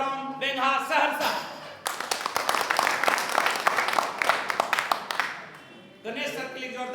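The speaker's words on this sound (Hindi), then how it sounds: "गणेश सर के लिए जोरदार ताली हो।" An audience claps enthusiastically to welcome a speaker named Ganesh Kumar at a motivational event, with a burst of dense clapping between stretches of someone speaking over a microphone.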